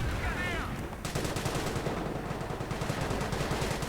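Rapid gunfire from a World War II strategy game battle, dense bursts of machine-gun and rifle shots that rattle steadily throughout at moderate loudness, with a brief voice near the start.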